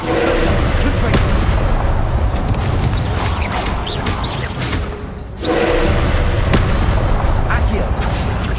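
Repeated blasts from the Confringo spell in the Hogwarts Legacy video game. Loud booming bursts and whooshes overlap in a dense, continuous barrage of combat noise, with a brief dip near the middle.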